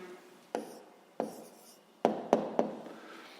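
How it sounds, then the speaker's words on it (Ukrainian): Pen writing down the answer to a math problem on paper, five short close scratchy strokes spaced apart, in quiet surroundings. "І записуємо відповідь."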